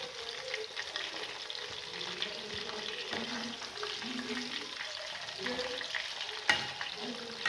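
Chicken kebab frying in a pan over a medium flame, a close, steady crackling sizzle with soft stirring and scraping, and a sharp clack near the end.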